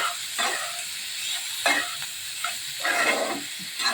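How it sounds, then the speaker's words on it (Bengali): Tomatoes frying in a pan with a steady sizzle, broken by several scraping stirs of a spoon against the pan, close by with no talking. "টমেটোগুলো দিয়ে আমি একটু ভালো করে নেড়ে চেড়ে নিচ্ছি।"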